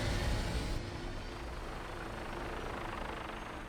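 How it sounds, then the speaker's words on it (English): An aircraft taking off in the video game Fallout 4, a steady, loud engine roar that swells briefly at the start and then holds an even, droning rumble. "All systems go. We're clear for takeoff."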